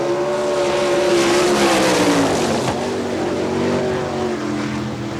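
Sprint car engine at Hartford, Ohio, during an All Star Circuit of Champions dirt-track time trial: one loud, close car holding a sustained high-pitched roar, its pitch sliding and rising as it powers through the corners, with no talk.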